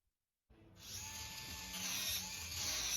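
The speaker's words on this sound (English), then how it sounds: "I'm using a small grinder here, simply to remove the layer of paint" A small grinder strips paint off a Kawasaki KZ650 cafe racer frame, starting after a brief silence and then whining steadily and close, high-pitched, with no talk.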